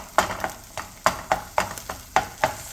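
A beaten egg and canned tuna cook in a pan, a spatula scraping and stirring in a quick, regular rhythm of about ten close, crisp strokes over a faint sizzle.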